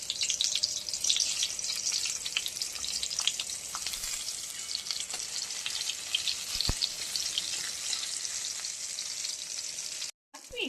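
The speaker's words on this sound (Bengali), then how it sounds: "পটল ভাজাটা আগে ভেজে নেব।" Pointed gourd pieces fry in hot mustard oil, making a loud, close, continuous crackling sizzle with scattered pops that cuts out briefly just before the end.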